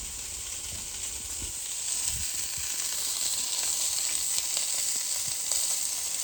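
Caramelised onion sausages sizzle on a Callow 4 burner plancha, giving a continuous bright hiss that swells slightly partway through, with faint low knocks and pops beneath.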